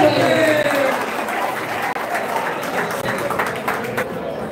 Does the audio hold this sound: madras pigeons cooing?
no